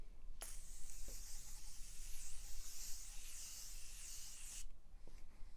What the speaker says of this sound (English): All right, so I'm going to spray this on.